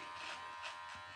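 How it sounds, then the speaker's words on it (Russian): An electric razor shaves a head down to bald, a faint steady buzz with slight pulses as the blades move across the scalp. "побрился полностью бритвой под ноль"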